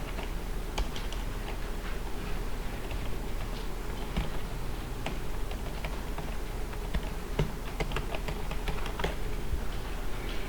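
Rapid, steady clicking of a computer keyboard as text is typed into video editing software, with many light keystrokes that are close and fairly quiet, continuing throughout without speech.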